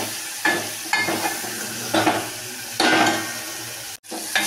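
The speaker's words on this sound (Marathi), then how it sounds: "मिक्स करून घ्यायचं सगळं" Drumstick pod amti curry stirred in a hot pan, with repeated scraping strokes of the spoon over a bubbling, sizzling simmer, close and fairly loud, no voices.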